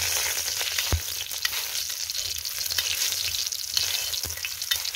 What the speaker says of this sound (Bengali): পাঁচফোড়ন দিচ্ছি, দিয়ে একটু নাড়লাম,